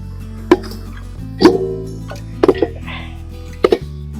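Pieces of beef leg dropped one at a time into a round cooking pot, giving four separate soft thuds and plops spaced about a second apart, close and fairly loud against a quiet background.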